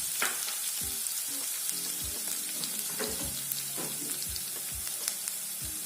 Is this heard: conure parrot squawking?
no